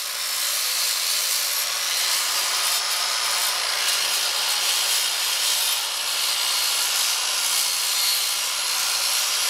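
Hand sanding of a Kawasaki motorcycle wheel with 60-grit sandpaper: a steady, close, continuous rasping scrub carried back and forth without pause, with no talking.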